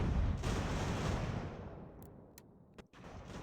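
Artillery fire in the video game Ultimate General: American Revolution, a loud rumbling boom that slowly fades, followed by a few sharp distant cracks.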